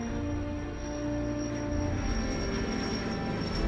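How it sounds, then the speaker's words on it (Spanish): A US Air Force B-52 bomber flies during in-flight refueling: a steady, continuous engine roar with a faint high whine, holding an even loudness throughout with no voices. "Un avión B-52 de las Fuerzas Aéreas de los Estados Unidos, proveniente de Carolina del Norte, se dispone a repostar combustible en vuelo."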